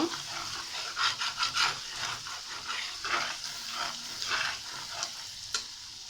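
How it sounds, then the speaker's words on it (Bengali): Spice paste with dried chili frying and being stirred in a pan for sorisa ilish (mustard hilsa), steady close sizzle broken by repeated scraping stirs, with no talk. "দিয়ে আমরা মশলাটাকে একটু ভুনা ভুনা করে নিব"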